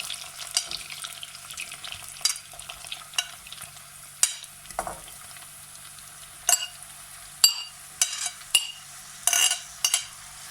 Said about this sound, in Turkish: yüksek ateşte mantarlarını güzelce karıştıra karıştıra kavuracağım